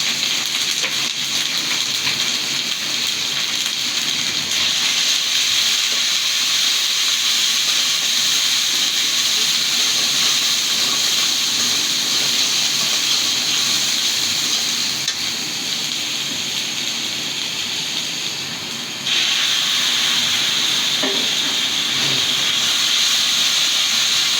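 Spice paste with turmeric and salt sizzles and hisses loudly and steadily in a pan for a fish curry, a continuous frying roar with occasional stirring scrapes.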